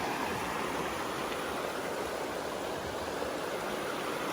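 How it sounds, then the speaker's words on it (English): The Dry River flowing beside a hiking trail, a steady, broad rush of water that stays even and unbroken throughout, close by and moderately loud, with no voices. "This is the Dry River right here."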